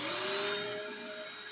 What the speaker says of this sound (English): The first thing I'm going to do is take the vacuum cleaner.